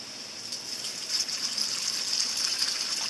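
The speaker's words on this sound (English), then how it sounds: "We're going to fill it with water." Sixteen ounces of drinking water pours into a dry bag, a steady hissing gush of running liquid, fairly close and moderately loud, with no talk.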